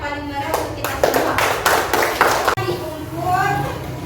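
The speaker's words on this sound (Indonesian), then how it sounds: "Sekarang kita beri tepuk tangan yang paling meriah untuk kita semua." Classroom applause from students in an Indonesian university teaching-practice lesson: several bursts of clapping over about two and a half seconds, mixed with young voices, before talk takes over.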